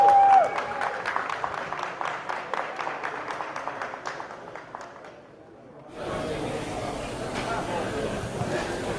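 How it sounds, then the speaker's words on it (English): Audience applause at a live parts-and-pieces bench competition, a dense burst of clapping that fades out over several seconds before a steady crowd murmur and background noise takes over. "Round of applause, folks."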